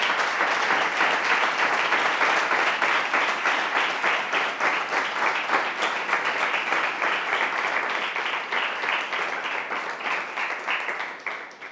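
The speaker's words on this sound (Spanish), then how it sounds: "Creo que las dos Anas merecen un fuerte aplauso por el trabajo que han hecho." An audience claps at a science talk on makeup and imaging, a lively even patter of many hands that holds steady, then thins slightly and tapers toward the end.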